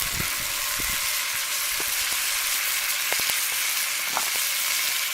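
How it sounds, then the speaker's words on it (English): Ribeye steak seared in a pan over a campfire-style bushcraft setup after being turned: a loud, constant close hiss of frying with faint scattered pops and clicks, no voices. "See, we're getting that nice bottom sear. I am going to turn this over."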